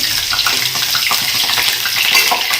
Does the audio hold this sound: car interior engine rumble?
no